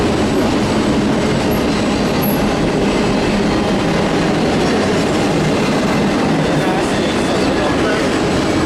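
Steady, loud rumble and rattle of a long freight container train rolling past nearby in Fullerton, continuous clatter of cars with faint metallic squeals above.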